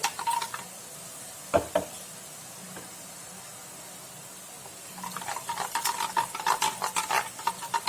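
Boondi batter drops for laddu frying in hot oil: a soft steady sizzle with intermittent stirring and scraping in the pan, quieter in the middle and busier toward the end, close up with no talking.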